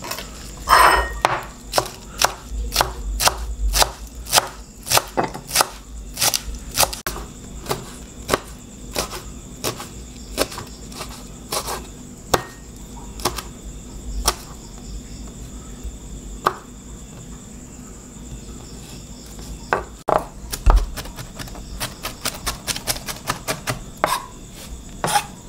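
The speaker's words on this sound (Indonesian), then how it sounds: "mula-mula kita akan hiris ini cincang sampai halus-halus" A knife finely minces ingredients on a board, producing rapid, sharp, evenly spaced chopping taps up close, with short pauses between bursts and no talk.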